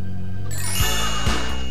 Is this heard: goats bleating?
no